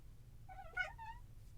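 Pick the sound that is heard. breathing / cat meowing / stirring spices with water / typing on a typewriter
cat meowing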